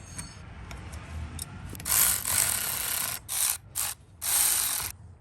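A ratchet wrench clicks in several quick bursts while two 10mm bolts are tightened on a Toyota Tundra's 5.7L V8 secondary air injection valve. The clicking is close and crisp, separated by short pauses.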